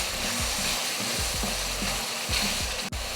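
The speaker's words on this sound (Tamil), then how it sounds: "சேர்த்துட்டு இந்த மசாலாவையும் நல்லா வதக்குவோம்" Masala paste for chicken curry sizzles and fries in hot oil in a pan, a steady crackling hiss broken by repeated scraping stirs, close and continuous with no speech.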